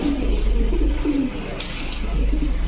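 Pigeons coo in low, rolling phrases at a pigeon farm, close and steady over a deep background rumble, with no one talking.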